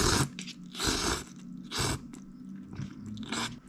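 Chinese river snails in Szechuan sauce are chewed close up, with repeated wet crunching bites in an uneven rhythm and no talk.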